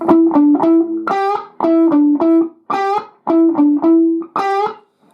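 Electric guitar playing a bluesy lick with a distorted tone; short repeated phrases of plucked notes and chords, loud and close, played alone.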